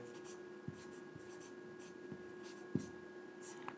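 A teacher writing on a board during a Hindi grammar lesson, with a few short, separate tapping and scratching strokes spaced over a few seconds against quiet room tone.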